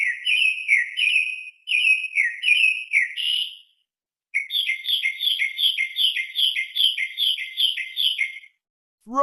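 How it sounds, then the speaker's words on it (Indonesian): Thrasher birdsong, bright rapid chirping phrases repeated in quick bursts with short pauses between, loud and close, alone without any voices. "Thrasher."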